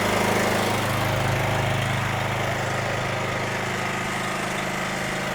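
A small engine unit runs continuously after its choke is switched off, giving a loud, steady droning hum from close range with no speech over it.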